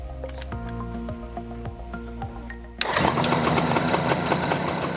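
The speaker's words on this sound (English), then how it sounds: "Make sure the engine is okay to start before you start it. And then start it." A Suzuki GT750 two-stroke motorcycle engine idles with a low mechanical chug and ticking, then suddenly catches and roars into a loud, buzzing run partway through.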